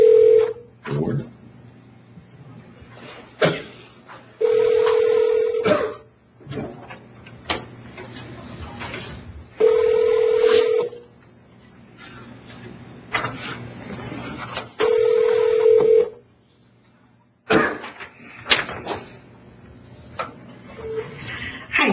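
A telephone call attempt plays out as dialing tones are followed by repeated ringback pulses at regular intervals, with a few clicks between rings, heard clearly and up close under some speech.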